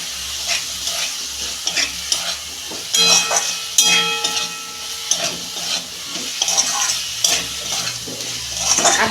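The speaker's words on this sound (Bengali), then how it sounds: "আমি ঝিঙে আর আলুটা দিয়ে দিচ্ছি" Ridge gourd and potato sizzle in spiced oil while a utensil stirs and scrapes the pan in irregular strokes, close and steady, with no talking.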